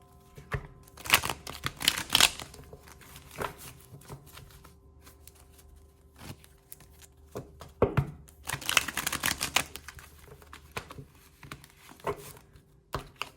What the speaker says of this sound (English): going to shuffle this 3 times